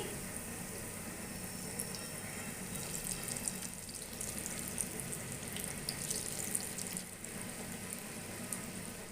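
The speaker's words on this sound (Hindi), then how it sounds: "अब मैं ऑयल में मंगोचियाँ डाल दूँगी।" Moong dal mangochiyan fry in hot oil in a pan, giving a continuous crackling sizzle with fine popping bubbles, steady and close at moderate volume, with no speech.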